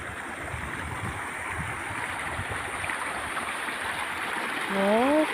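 River water flows with a steady, moderate rushing hiss, nearby and continuous, while a person speaks briefly near the end.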